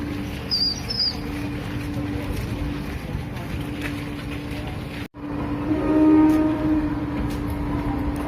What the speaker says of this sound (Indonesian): kereta api KRD melaju melanjutkan perjalanan